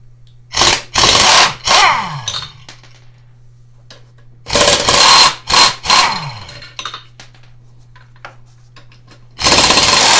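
An impact wrench breaks loose Loctite-secured bolts on a Snapper mower. It fires in short, loud, rattling bursts, two or three at a time, with a steady low hum beneath and quiet gaps between the groups.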